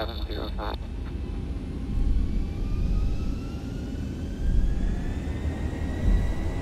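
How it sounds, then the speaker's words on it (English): Simulated airliner engines spool up to takeoff power during a takeoff roll in the X-Plane 11 flight simulator, a 737 or A320, giving a loud, steady broadband jet roar with rising whine tones and a brief beeping at the start. "Takeoff power set."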